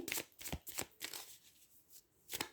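Tarot cards are shuffled by hand in a series of crisp riffling bursts, close and fairly quiet, with short pauses between them.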